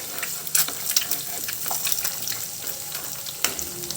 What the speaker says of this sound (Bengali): এ পর্যায়ে ডিম শক্ত হয়ে আসা পর্যন্ত নাড়তে থাকবো।